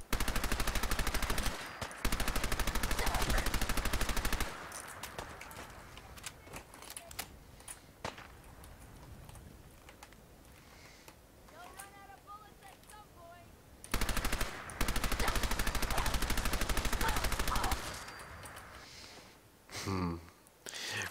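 Loud bursts of automatic gunfire from the video game Fallout 4 come in two long rapid strings separated by quieter stretches of scattered game effects and occasional talk.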